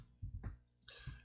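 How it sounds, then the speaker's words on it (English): A few short, low coughs, close and fairly quiet, followed by a brief breathy rasp and one more cough. "Every time I go to talk, I feel a cough coming up."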